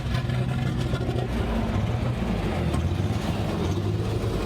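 A car engine on the Cash for Trash show runs steadily with a low, dense rumble and some revving, loud and continuous throughout with no talk over it.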